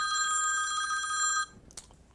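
A mobile phone rings with a steady, trilling electronic tone for about a second and a half, then cuts off, followed by a faint handling click.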